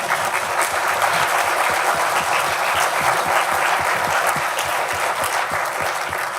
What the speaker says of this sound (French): On peut encore vous applaudir.